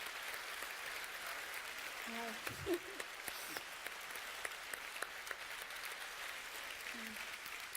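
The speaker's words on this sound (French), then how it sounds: "je voudrais qu'on les applaudisse très fort" An audience at a live televised talk event claps steadily in a dense, moderately distant wash of applause, while a voice briefly speaks over it.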